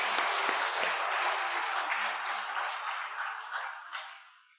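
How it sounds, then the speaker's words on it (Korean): Church congregation applauding the choir during a Sunday afternoon service, a broad wash of clapping from many hands in a large room that gradually thins and fades out. "특별히 올 한 해 강건하게 이 찬양대 사역 잘 감당하시라 우리 박수로 한번"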